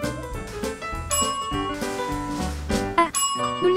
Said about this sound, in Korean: 종소리만 들어도 깜짝 놀래요.